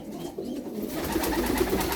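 Soft, low pigeon coos murmur close by over a faint background hiss, several overlapping calls from Turkish Pofidik pigeons, with no talking.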